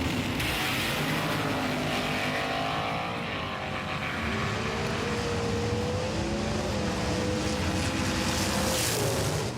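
A race car drives hard on a track, its engine whining through rising and falling gear pitches over a loud continuous roar, close and steady for the whole stretch with no talking.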